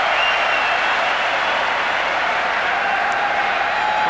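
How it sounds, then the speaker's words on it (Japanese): A large stadium crowd roaring steadily after Japan's second goal in a 1996 under-23 Olympic qualifier against Saudi Arabia, a dense, unbroken wall of cheering and applause heard at a distance. "日本2点目、場内の歓声"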